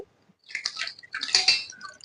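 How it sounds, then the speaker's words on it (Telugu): Water splashes and trickles in two short pours onto jaggery in a pan after a moment of quiet, a wet, close, bubbling sound with a few drips. "ఈ బెల్లం వేసి కొంచెం వాటర్ వేస్తానండి"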